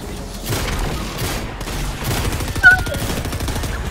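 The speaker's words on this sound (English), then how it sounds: "People are shooting!" Rapid gunfire bursts from a Fortnite custom match, crackling shots layered over game noise and a busy background with a louder single report near the end.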